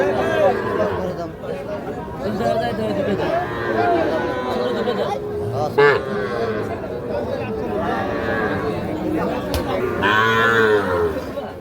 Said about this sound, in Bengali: শাহিওয়াল সার বাছুর, আনুমানিক 4 থেকে 5 মাস করে বয়স হবে এক একটা